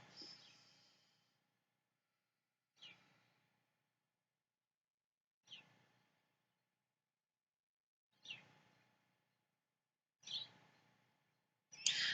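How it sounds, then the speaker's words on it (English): Faint, isolated bird calls ring out about every two to three seconds, each a short burst followed by quiet, becoming slightly louder toward the end. "So I hear the birds."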